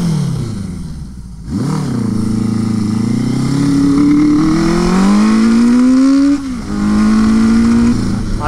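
A Suzuki GS850 scrambler motorcycle engine with the choke pulled during carburetor tuning, running loud and close, with revs rising and falling in long sweeps and a brief dip partway through.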